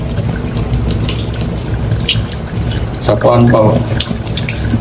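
Tap water runs in a steady, close hiss as a vacuum filter from an Eysin V30 vacuum-mop is rinsed under it, with a person talking over the flow.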